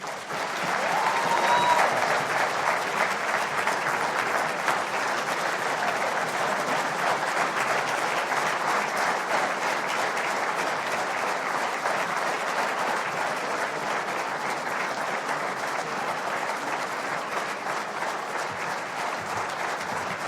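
Sustained audience applause fills a large hall as Barack Obama is welcomed on stage at a Hindustan Times Leadership Summit event, steady dense clapping holding for twenty seconds without letting up.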